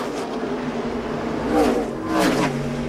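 NASCAR stock cars race at Darlington in the 2007 Dodge Avenger 500. Loud engines roar and whine past in two distinct surges over a steady background drone. A commentator talks faintly underneath.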